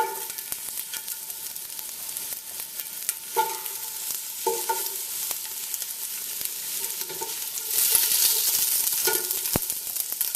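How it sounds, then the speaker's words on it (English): Garlic and onions fry in hot oil in a soup pot, giving a steady, close sizzle with occasional stirring scrapes and a louder surge of hiss near the end. "With the oil nice and hot now, all I'm doing is adding the garlic and the onions to the pot."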